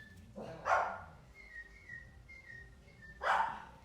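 A man whistles several times in short thin tones while two dogs let out sharp barks, one near the start and another a few seconds later, fairly faint and indoors-sounding.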